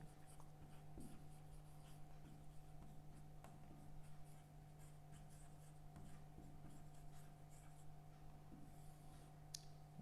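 Pen writing out a daily expenditure table for a Class 10 maths statistics lesson, soft continuous scratching strokes over a steady electrical hum, no talking.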